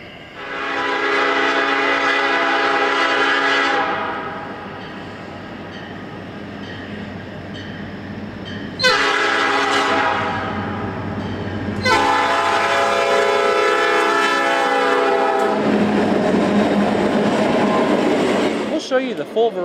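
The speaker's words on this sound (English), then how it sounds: "Alongside CN's core trains run trains loaded with taconite and limestone, pulled behind iconic EMD veterans like rebuilt SD40-2s" Freight trains carrying taconite and limestone, hauled by EMD diesel locomotives such as rebuilt SD40-2s and former Southern Pacific tunnel motors, sound loud horn blasts in several long bursts over rumbling engines, close by.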